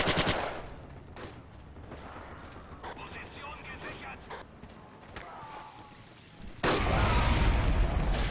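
Firefight in the World War II game Forgotten Hope 2 during Operation Lüttich, with rapid bursts of machine-gun fire and scattered shots, and a sudden heavy blast near the end, over a player's voice talking.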